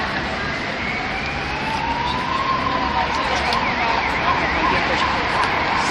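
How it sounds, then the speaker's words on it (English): An emergency vehicle siren wails along a busy Madrid street, its rising and falling tone clear but not overly close above a constant wash of traffic noise. "Sirens, jackhammers."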